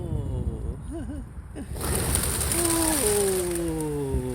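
Soft coos of white pigeons in a UK village rise and fall briefly near the start, then a louder hiss and whistling tones take over with faint background noise.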